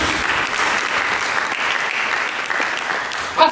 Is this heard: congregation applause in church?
yes